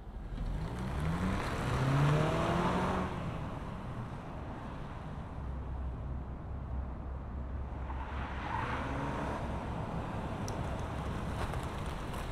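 A 2025 Honda CR-V Sport Touring hybrid in Platinum White rolls off and drives, a steady low road and tyre rumble with a brief faint squeal early on and a swell of passing noise near the end, no voices.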